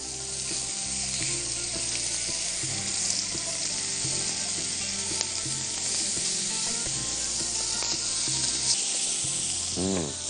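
Food for chicken breasts with spinach is stirred in a hot pan, a continuous close sizzle with occasional soft scraping and a brief tonal whine near the end, without speech.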